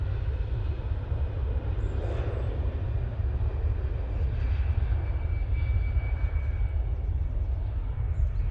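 An EasyJet airliner at Manchester Airport rumbles with a heavy, continuous low engine roar, loud and close, holding steady throughout.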